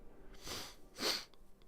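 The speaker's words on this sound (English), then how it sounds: "Sniffles tonight for some reason." A person sniffles twice in quick succession, two close, breathy bursts of air through the nose, the second louder, in an otherwise quiet room.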